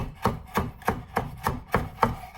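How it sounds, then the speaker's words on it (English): A chef knife chopping food on a board, with seven crisp, evenly spaced chops at a steady rhythm of roughly three per second, close and clear, with no talking. "The knife will do its work, and it will chop properly."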